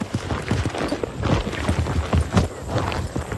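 Hooves of a horse ridden on a rural property clip-clop in a steady, fairly close walking rhythm, each footfall distinct, with no voices over them.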